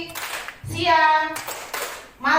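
A school class claps hands in a counting game, with short bursts of clapping around a stretch of young voices, close and fairly loud.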